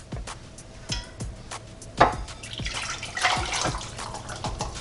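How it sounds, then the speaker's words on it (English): Hot wing sauce poured from a large 8-quart pot into a bowl, a soft splashing liquid pour with a few knocks and clinks of the pot, close and fairly quiet with no talk. "I'm going to pour this sauce in."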